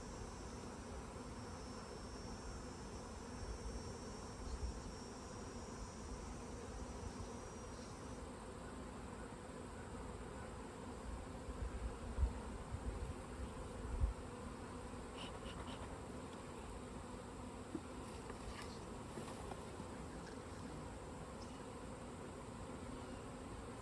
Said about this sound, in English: So you're going to shake the bees off of all the frames